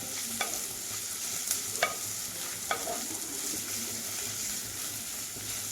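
Onion masala frying for a bitter gourd curry, with a soft continuous sizzle and several distinct scrapes of a spoon stirring the pan, close and fairly quiet, without talk.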